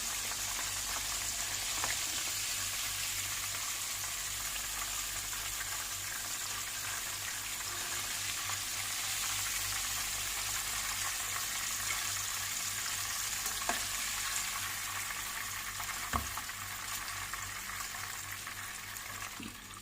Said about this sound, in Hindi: اسی طرح ہم باقی کے بھی سب سلائسز فرائی کر لیں گے